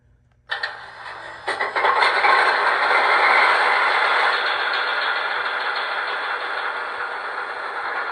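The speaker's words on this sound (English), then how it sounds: "And the sounds for this, I reprogrammed this as an RS3. It just had a more clunky engine sound." An MTH model diesel locomotive running the RS3 sound set starts up with a sharp clunk, then a second surge into a loud, clunky engine roar that settles into a steady, rumbling idle, with no talking.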